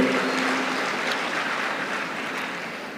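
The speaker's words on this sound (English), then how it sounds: "we'd like to extend a warm thanks and a big round of applause for our Registrar" Sustained applause fills the hall at a university convocation, a dense, even wash of many hands clapping that fades slowly over a few seconds.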